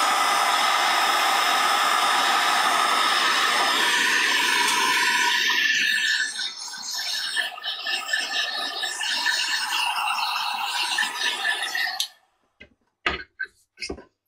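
A heat tool blasts stamped ink dry with a loud, steady whooshing roar for about twelve seconds before cutting off, followed by a few faint clicks and taps.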